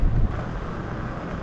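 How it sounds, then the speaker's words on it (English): Strong gusty wind buffets the microphone on a beach lined with kites during a New Year's weekend, a loud, steady roar that is heaviest at the start and continues without speech. "It is windy as windy can be."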